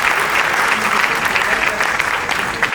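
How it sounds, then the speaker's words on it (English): A crowd of students and guests give a loud, dense round of applause, close and continuous throughout. "Please boost her confidence by giving a huge round of applause."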